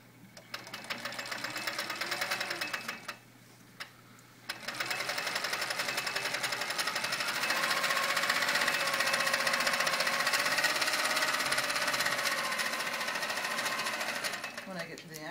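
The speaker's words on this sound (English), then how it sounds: "I'm going to set the machine onto a basting stitch, and I am simply going to baste straight across" Quilting machine running a long basting stitch straight across a quilt top loaded on a frame, steady loud rapid mechanical stitching with a brief pause early on, then continuous whirring to the end.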